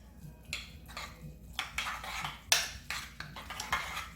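Chopped guacamole ingredients being mixed in a bowl: a run of scraping, clinking utensil strokes against the bowl, close and moderately loud, with a sharper knock partway through.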